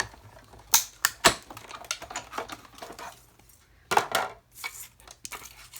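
Sharp, irregular cracks and snaps from a die cutting machine cutting through layering dies, a few loud pops scattered among quieter crackling, close by with no talking.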